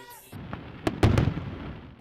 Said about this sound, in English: we shoot off fireworks, and that's really one of those things where we're warding off evil spirits